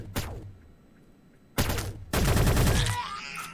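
Video game gunfire: a sharp single shot, a pause, then a loud burst of rapid automatic fire, close and punchy, with no talk over it.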